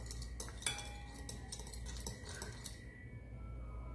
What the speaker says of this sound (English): then I will mix it with the fork